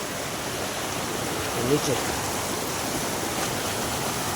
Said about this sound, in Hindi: ये देखिए फिर एक झरना